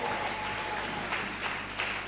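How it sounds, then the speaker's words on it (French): Congregation at a church conference applauding loudly and steadily, a dense continuous wash of many hands with faint crowd noise, no talk over it. "nous acclamons très fort"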